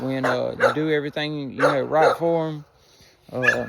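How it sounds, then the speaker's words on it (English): A dog barks at a cat on a backyard chicken-keeping property, short barks partly buried under someone talking close to the microphone. "sorry for the dog barking. She's barking at the cat."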